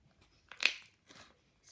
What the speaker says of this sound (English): It's pretty crunchy too.